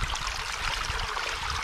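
Steady water trickling and gurgling through a beaver dam, a continuous close rushing wash with no breaks and no voices.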